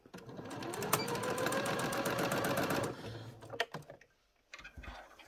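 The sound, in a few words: sewing machine stitching a pleated tartan doll skirt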